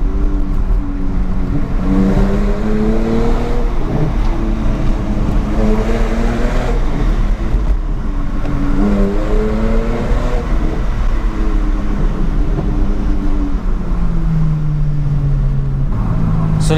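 A BMW 125i E82 coupé's naturally aspirated engine revs hard toward 7000 rpm, its loud, steady drone climbing and falling in repeated pitch sweeps through shifts and blips, close and continuous with no talking.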